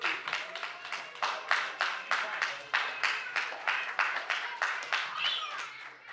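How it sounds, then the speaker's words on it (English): An audience at a church Vacation Bible School closing applauds the children with steady, continuous clapping from many hands, moderately loud and close, with no talking over it. "Let's give all the kids another round of applause."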